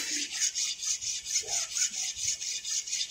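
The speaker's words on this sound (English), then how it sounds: "The face of the file I am switching just to refresh." A hand file strokes steadily back and forth across a metal workpiece, giving a regular, close, rasping scrape in even repeated passes.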